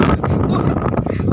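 Strong wind in Banyuwangi, Indonesia, buffeting the microphone in a loud, continuous roar with no pauses.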